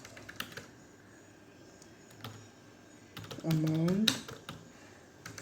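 Typing on a computer keyboard while building a tax invoice in an Excel spreadsheet, with sparse close key clicks and a few taps spread through a quiet room and a brief spoken word near the end.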